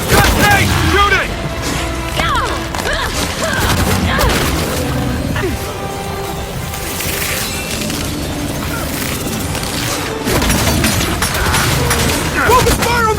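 Sustained gunfire aimed at a creature's tongue in the video game Gears 5, loud continuous shooting mixed with booms, crashes and mechanical clatter, dense and close for the whole stretch.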